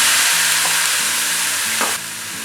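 Boiled chickpeas stirred into onions frying in a pan, a loud continuous sizzle with soft scraping of the spoon and a few brief knocks, close up and without talk.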